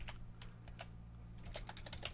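Quick, light clicking of fingers typing on a computer keyboard, a steady run of keystrokes heard close over a low electrical hum.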